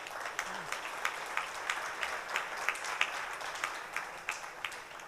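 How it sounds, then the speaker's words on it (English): Audience applause at the India AI Impact Summit 2026 curtain raiser event, a steady wash of many hands clapping with recurring louder accents, moderately distant and sustained through the moment. "Give them a big round of applause."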